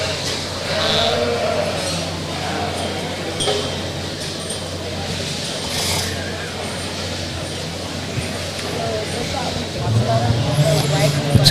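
Sheep bleat at a livestock show ringside, scattered calls rising over the steady crowd murmur and hall noise, with people talking throughout.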